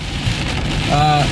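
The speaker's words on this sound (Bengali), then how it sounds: "বৃষ্টির আওয়াজ আপনারা শুনতে পাচ্ছেন আশা করি।" Steady rain falls in Kolkata in a dense, constant patter, close and fairly loud.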